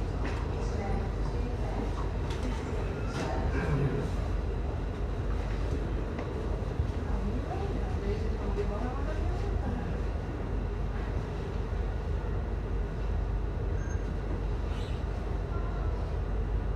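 An Amsterdam metro line 52 train on the Noord/Zuidlijn rumbles steadily through a tunnel, with a continuous loud low roar and rattling. There is no break in the noise, and faint speech sounds are mixed into the din.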